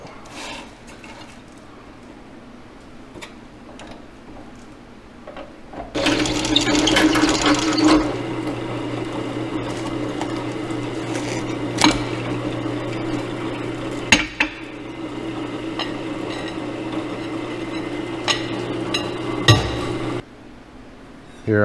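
A drill press bores a 3/4 inch hole in channel iron, starting abruptly after a quiet lead-in and then running as a loud, steady grinding whir with metallic clicks and knocks for about fourteen seconds before stopping.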